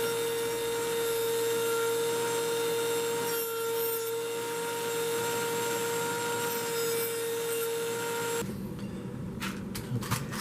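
A small rotary sanding drum grinds steadily and loudly against jagged metal edges, a sustained whirring abrasion that stops abruptly near the end, followed by a few faint handling taps.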